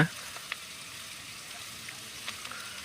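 Onions and vegetables, seasoned with curry leaves and dried red chillies, fry in a pan, giving a soft continuous sizzle with a few faint scraping stirs, quiet and close.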